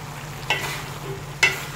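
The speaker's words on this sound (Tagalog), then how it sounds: "Halo lang ng halo." A spatula scrapes and stirs chayote in a pan for chop suey, giving two sharp scraping strokes over a low, steady sizzle, close and fairly loud, with no talking.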